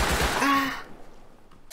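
Gunfire from a brief exchange in Rust, a dense burst of shots lasting under a second and then cutting off to near silence with a faint click at the end.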